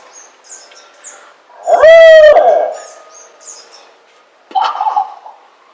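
A loud, close single-note owl hoot imitated by a hunter to locate a turkey gobbler, a strong rising call near the start, followed several seconds later by a fainter distant gobble, with birdsong chirping faintly in the background.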